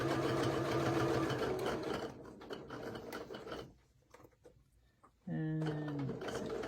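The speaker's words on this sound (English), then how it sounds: "Sew down the side." A sewing machine stitches down the side of fabric for a cathedral windows quilt block, a rapid mechanical chatter that pauses midway and then resumes, with a person talking over parts of it.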